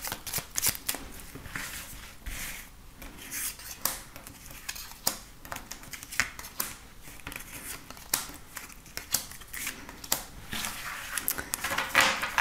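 Oracle cards are shuffled for a card reading, giving crisp, rapid riffling and flicking that comes in uneven bursts, close and fairly quiet with no talking.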